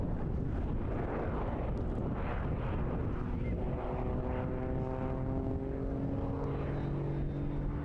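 Aerobatic aircraft engine at a seaside airshow, droning steadily and loud as the plane pushes over out of a hover, with rising and falling engine tones throughout and no speech.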